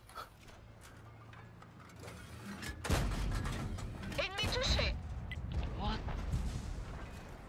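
Tank cannon shots in World of Tanks, with a tank destroyer firing at artillery: two loud booming blasts with rumbling decay, one near the middle and one a bit later, over game noise, with a voice speaking briefly.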